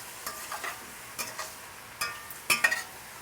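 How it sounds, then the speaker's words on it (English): Shiitake and portobello mushrooms sauté in olive oil in a pan, a faint frying hiss broken by scattered utensil scrapes and light clinks as they are stirred, growing busier near the end. "Now you can see the mushrooms are really beginning to simmer and get hot"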